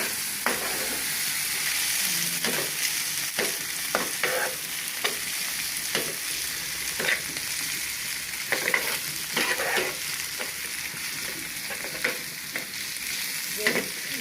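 An egg frying in a pan gives a continuous hiss of hot oil, broken by frequent crisp pops and spatula scrapes at irregular intervals, close and fairly loud, with no talking.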